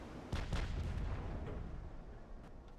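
Warship guns fire in the naval battle game Ultimate Admiral: Dreadnoughts, two heavy booms close together followed by a rolling low rumble that fades slowly.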